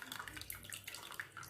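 Water drains and trickles as curdled milk is strained through a white cloth while making rasagulla, a brief run of close, splashy dribbling.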